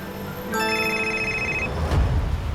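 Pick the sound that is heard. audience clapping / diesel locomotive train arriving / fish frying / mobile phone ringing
mobile phone ringing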